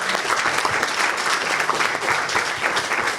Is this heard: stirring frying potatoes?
no